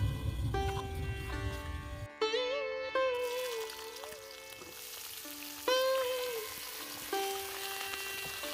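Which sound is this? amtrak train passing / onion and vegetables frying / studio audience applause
onion and vegetables frying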